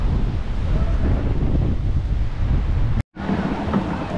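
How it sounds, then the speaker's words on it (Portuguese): Strong southwest wind at a beach near Cabo Frio and Arraial, a loud continuous roar buffeting the microphone with surf mixed underneath, cutting out abruptly for a moment before resuming. "Olha a ventania que tá, gente."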